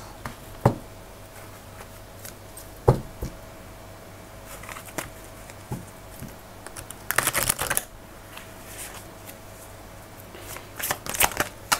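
Tarot cards are handled with soft, scattered flicks and taps, then brief bursts of rapid riffling near seven seconds and again toward the end, close and quiet with no voice.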